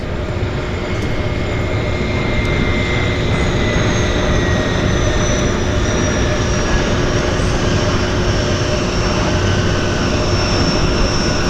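A floatplane landing at Vancouver's downtown harbour airport, a loud, steady droning engine roar with a sustained tonal whine that slowly drops in pitch, continuous and close throughout.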